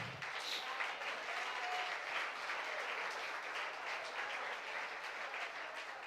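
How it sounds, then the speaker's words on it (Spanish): A church congregation applauds at a Sunday live celebration service, steady dense clapping filling the room evenly for several seconds without a break. "Regalemos un aplauso al Señor."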